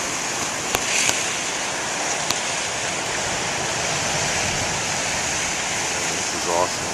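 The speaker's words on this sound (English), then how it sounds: "the waves are coming from real different directions" Big ocean waves crash on a windy coast with steady broadband roar throughout, a few sharp thumps and bursts poking through the rush of surf and wind.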